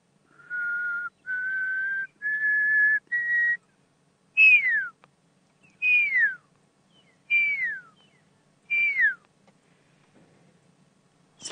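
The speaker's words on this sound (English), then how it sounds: "what made me look in that direction was I heard it whistle" A pearl-spotted owl whistles in the open: a series of steady, slightly rising notes, then several separate downward-sliding whistles, clear and fairly near against a quiet background.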